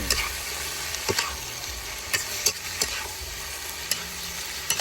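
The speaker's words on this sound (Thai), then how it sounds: "ผัดแบบ แห้งๆล้วนๆนะครับ" Ingredients for a Thai basil stir-fry tossed dry in a hot pan, a steady loud sizzle with occasional sharp spatula clacks against the metal, close up and without speech.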